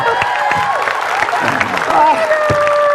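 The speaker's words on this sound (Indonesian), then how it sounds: "Tepuk tangan." Studio audience applause at an Indonesian television talk show, steady clapping through the whole stretch with a host's voice talking over it.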